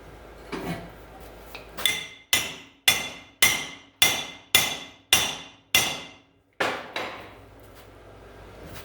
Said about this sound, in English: you can take a hammer